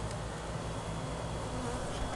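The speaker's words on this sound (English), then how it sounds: "bees down here" Dense, steady swarm of honeybees buzzing up close during a bee cut-out removal in Wesley Chapel, a continuous loud drone with no pauses.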